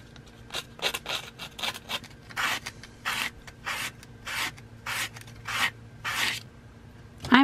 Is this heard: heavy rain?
no